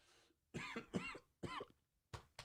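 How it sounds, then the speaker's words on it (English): Coughing from a man with a tickle in his throat: a short run of harsh, close coughs in separate bursts, with a brief throat-clearing sound between them and near silence in the gaps. "I can't with this cough."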